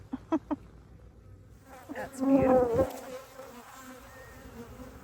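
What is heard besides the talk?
honeybees buzzing around a beehive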